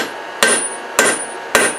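Three evenly spaced, loud ringing hammer blows on Damascus steel resting on a flat die, struck below welding heat to smooth out earlier hammer marks, each a sharp metallic clang with a short decay.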